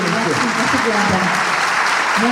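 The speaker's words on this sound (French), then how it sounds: "Un applaudissement pour Sylvie Tellier, s'il vous plaît" Audience clapping at a regional Miss France beauty pageant election in Montargis, steady loud applause with voices talking over it throughout.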